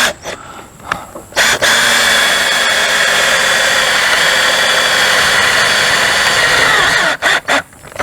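A power drill drives self-tapping screws into an RV slide topper's awning rail, giving a loud, steady continuous whine for several seconds, bracketed by short clicks and brief bursts at the start and finish.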